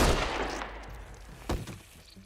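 Gunshot in The Walking Dead Telltale game during a tense execution standoff: a low rumbling background with one sharp, loud shot near the middle followed by a short echoing tail.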